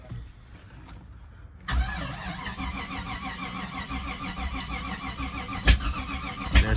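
Cold start of a Jeep Grand Wagoneer engine in 20-degree weather: a quiet lead-in, then at about 1.7 seconds the engine catches into a steady, rough idle close to the microphone, with two sharp knocks near the end.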